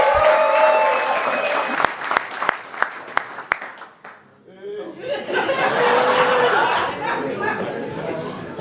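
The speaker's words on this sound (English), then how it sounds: "So let's give them a round of applause." Audience applause at a marriage retreat in a Southampton hotel: a few separate claps, then a swell of sustained clapping mixed with crowd chatter and chuckles.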